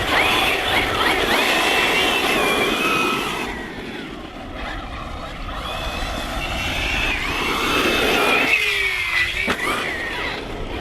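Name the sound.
HoBao Hyper SST RC car driving on 4S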